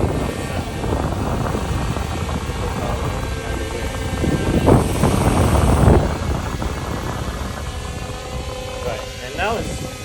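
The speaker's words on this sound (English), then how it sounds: "That's how big the wind is below the drone." Steady rushing wind from a hovering drone's propellers blows past a microphone below it, a constant broadband roar that swells around the middle, with no talk heard.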